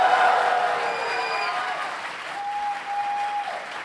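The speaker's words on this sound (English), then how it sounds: "can we give Yong another round of applause," Audience applause fills a convention hall at an Anime Expo panel for Yakuza/Like a Dragon, a loud dense clapping that slowly thins and fades, with a steady electronic tone ringing faintly near the end.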